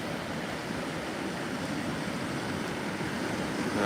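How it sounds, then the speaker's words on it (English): Ocean swells from the southeast surge into a coastal inlet near Bethany Beach during Hurricane Erin flooding, a constant broad rushing roar of surf and water with no clear breaks and no voices. "you can see those swells there coming from the southeast up towards the northern side of the inlet"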